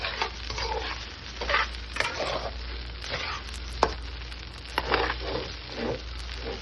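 Flattened rice (poha) sautéed and stirred in a pan: repeated scraping, stirring strokes over a steady soft sizzle, close and moderately quiet.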